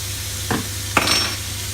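Garlic stirred with a spoon in a hot pan with chicken, two quick scraping stirs over a steady low sizzle.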